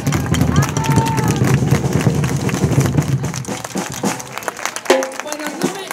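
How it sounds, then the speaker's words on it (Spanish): Crowd applause and clapping at an outdoor Christmas lights switch-on ceremony in Chapela, steady and dense through most of the stretch with crowd hubbub, then thinning into scattered claps near the end. "Y un aplauso muy fuerte para Troula por el trabajo que hiciste"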